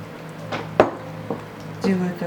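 A metal spoon clinks and scrapes against a bowl while mixing dough of sifted premium flour with liquid, oil and salt for cherry vareniki, a few separate knocks and scrapes over a low steady hum.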